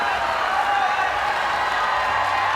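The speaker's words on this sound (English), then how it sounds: "The crowd delighted." A large crowd cheers and applauds without a break at a swimming race at the 8th ASEAN Para Games 2015. The roar is dense and reverberant, as at an indoor pool, and lasts the whole moment.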